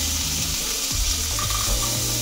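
Carrots frying in a pan for a sabzi moong dal. A continuous close hiss of oil carries intermittent scraping and stirring clatters, and no voices are heard.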